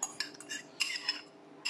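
A spoon stirs a savoury pot bread mixture in a bowl, giving a handful of soft, irregular scraping and clinking taps, heard close and quiet.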